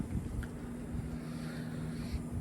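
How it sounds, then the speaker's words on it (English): Steady outdoor wind buffets the microphone with a low, continuous rumble and broadband hiss, fairly faint and unbroken, with no voices. "Sorry about the wind, guys."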